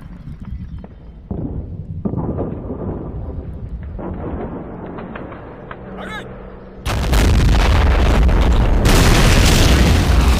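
Booming gunshots and artillery-like blasts from units in a World War II war game set at Küstrin, with scattered rumbling shots early on before a sudden, sustained loud roar of heavy fire.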